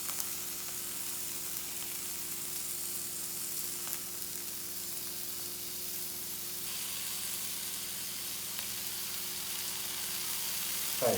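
Garlic, mushroom and prosciutto sizzling in a fry pan, a steady, quiet hiss of frying that continues evenly, with a low background hum and a faint clink near the end.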